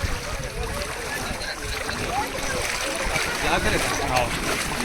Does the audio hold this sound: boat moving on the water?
yes